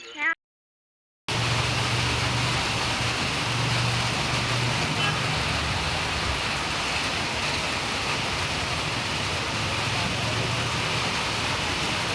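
Steady, heavy first rain of the season pours down in Sirsi, Karnataka, a dense hiss that continues without a break after a brief silence at the start.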